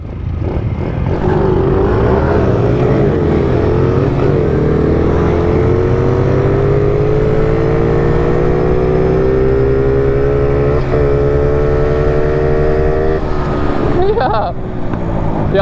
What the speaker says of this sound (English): we're about to get a little race. 270 or 290 quads first.